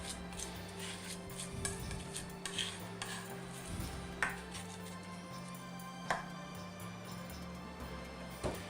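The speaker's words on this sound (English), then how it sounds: "use the flat edge of my knife to give it a good mash and puree it" Garlic with kosher salt is mashed and pureed under the flat edge of a knife on a cutting board, giving soft scraping strokes broken by a few sharp taps of the blade against the board.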